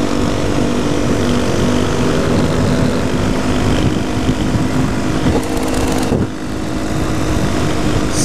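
A KTM supermoto motorcycle engine holds high revs through a long wheelie, giving a loud, steady, close-up roar that barely changes and dips slightly near the end.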